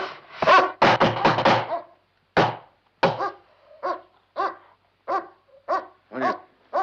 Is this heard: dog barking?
yes